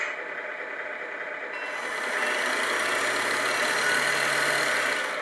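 Tamiya 1/14 King Hauler RC truck with an MFC light and sound unit, its simulated diesel engine running steadily and then rising in pitch and loudness as the throttle is opened, with no talking.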